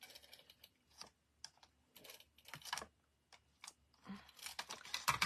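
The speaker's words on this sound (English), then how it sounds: "So I'm going to go along with my tape gun." A tape gun lays adhesive tape along craft paper in a series of scratchy, ripping bursts that start and stop irregularly at close range, with no talking.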